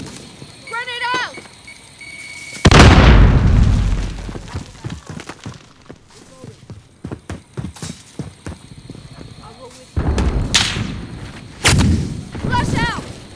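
Call of Duty Modern Warfare gameplay brings a loud grenade explosion followed by scattered gunfire and heavy impacts. Game voices and shouted callouts run through the mix, with another burst of blasts near the end.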